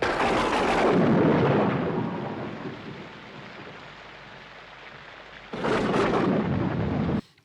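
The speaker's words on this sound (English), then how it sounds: "Was it really raining at the Battle of Waterloo?" Rain and thunder from a Battle of Waterloo film scene: heavy rolling thunder over steady rain, easing to a quieter downpour before a second loud crash of thunder.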